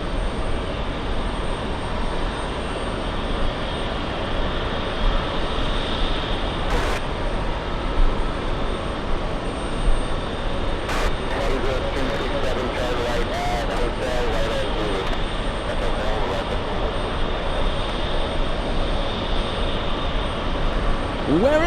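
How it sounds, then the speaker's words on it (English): A Qantas airliner on its takeoff roll at JFK makes a steady, broad engine roar that holds loud and even throughout, with a faint voice nearby. "Qantas takeoff"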